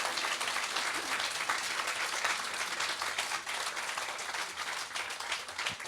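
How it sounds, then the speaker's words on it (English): Steady applause from an audience at a tennis-themed talk with Darren Cahill, dense clapping holding at an even level throughout without pause. "Applause."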